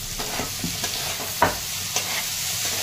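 Chopped tomato sautés in a pan with a ground chickpea masala, giving a soft sizzle with a few clinks and scrapes of a spoon stirring, near and fairly quiet, with no talking.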